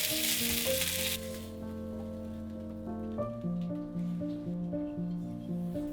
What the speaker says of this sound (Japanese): オイスターソース小さじ1/2、白いりごまを適量加えてさっと炒めたら完成。